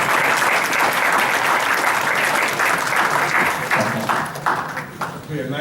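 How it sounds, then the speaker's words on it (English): A fireside-chat audience applauds its panelists: dense, steady clapping from many hands that holds strong for several seconds, then thins and fades near the end. "a nice round of applause for them, please."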